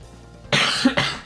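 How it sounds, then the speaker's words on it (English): Two sharp, close coughs, one right after the other, with a brief pause between them and a quiet background. "You guys just gonna hear that cough."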